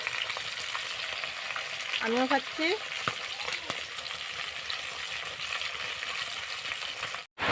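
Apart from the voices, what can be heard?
fish frying in leftover papad-frying oil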